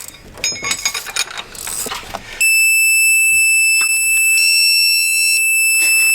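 A torque wrench, used on a Land Rover LR4 timing chain replacement, gives off a loud, steady electronic beep tone that starts abruptly after some mechanical clicking and ratcheting and holds continuously to the end.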